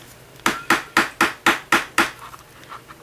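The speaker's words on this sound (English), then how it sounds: "I'm going to hammer this wire and harden it." Seven sharp metallic hammer blows strike wire wrapped around a bead ring to work-harden it, evenly spaced about a quarter second apart, close and crisp, each with a quick decaying ring, then quiet.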